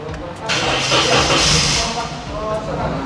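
A petrol car with electronic fuel injection cranks and fires up after a relay check, its engine catching into a rough, unsteady idle with a fault warning, loud and close with broadband roar throughout.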